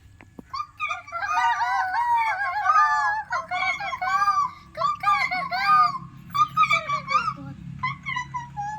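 A voice imitates a hen, making a run of short, squawky clucking calls up close, with a brief pause before a final burst.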